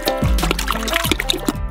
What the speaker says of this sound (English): Five kilograms of gelatin should be poured into each of the juices.